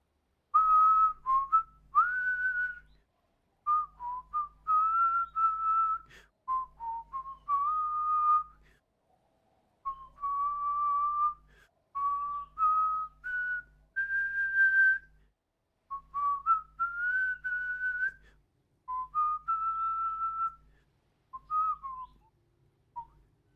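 Melodic whistling of a jazz standard in the video game Disco Elysium, a clear solo tune in short phrases with brief pauses, alone with no talk.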